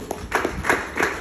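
Audience claps for the gurus at a seminar gathering, a few distinct clap bursts in an uneven rhythm, moderately loud and close, roughly four strikes within about a second.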